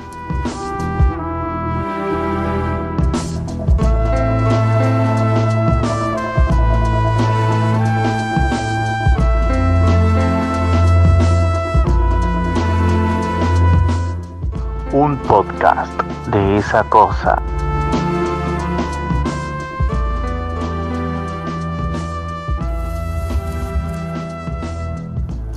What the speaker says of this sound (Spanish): Lo que acaban de escuchar es la música de Old Boy